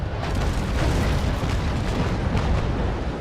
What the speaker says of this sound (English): let's go for another passing broadside, another 10 gun salute on my mark, and fire